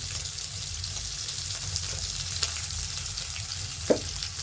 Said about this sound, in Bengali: ফুলকপিটা এদিকে আস্তে আস্তে ভাজা হচ্ছে